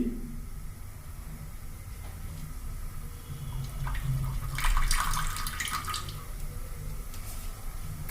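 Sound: pouring refined oil into a pan

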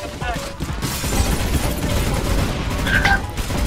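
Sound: gunfire in video game CS:GO

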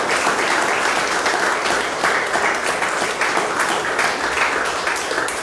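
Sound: strong applause for doctor Julio

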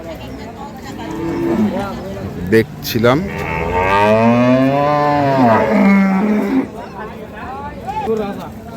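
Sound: cattle mooing at a livestock market

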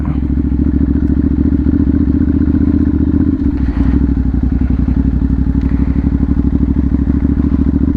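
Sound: Ducati Monster 796 motorcycle engine while riding

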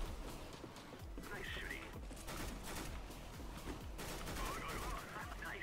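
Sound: gunfire in the video game CS:GO

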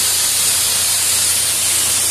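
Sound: water spray rinsing a K&N air filter

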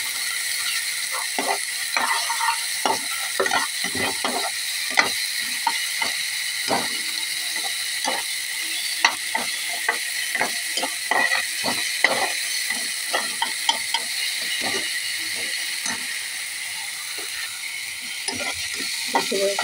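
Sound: frying onion, green chilli and spices in a pan

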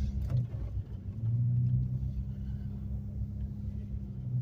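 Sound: Toyota Camry driving on snowy road in blizzard

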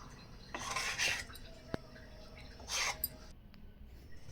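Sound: mixing gobi manchurian batter in a bowl

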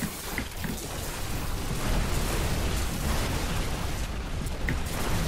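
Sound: explosion in the video game Diablo 3

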